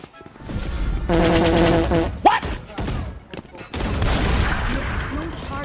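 Gunfire in a competitive online shooter video game: bursts of rapid shots and thuds crack out in quick clusters while a player talks excitedly over the action.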